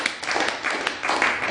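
Church congregation clapping during a sermon, a dense continuous patter of many hands at fairly close range, steady and lively across a brief stretch.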